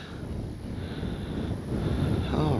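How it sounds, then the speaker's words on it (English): Steady wind rushing and buffeting across a microphone at an RC model airplane flying field where a P-47 Thunderbolt is being flown, a continuous low roar that swells slightly toward the end with no talking. "But it is windy."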